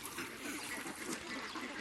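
Ducks quack at a pond where the water has run low, a faint, brief burst of calls over a steady outdoor hiss.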